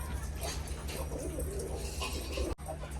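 Pigeons in a home loft with eggs and chicks give low, steady cooing close by, a soft droning hum with other animal noises mixed in and a brief cut near the end.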